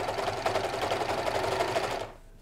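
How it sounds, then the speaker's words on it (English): Serger overlock sewing machine stitching and trimming fabric with its blade, a fast, steady mechanical whirring chatter up close that stops abruptly near the end. "this piece of metal right here is a blade, and it's gonna trim our fabric and our seam while it's overlocking it"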